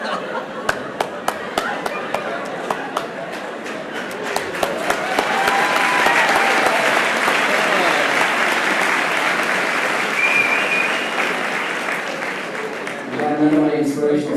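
Commencement ceremony audience applauding in a large hall, a broad sustained wash of clapping that swells and holds for many seconds, with a few chuckles and a voice returning near the end.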